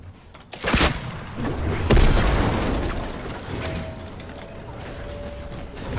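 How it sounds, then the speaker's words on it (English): RPG rocket explosions in the video game Fortnite: a sharp launch pop, then a heavy booming blast that rolls away into a long, loud rumble with debris noise, heard up close. "Fire some RPGs down, Jam."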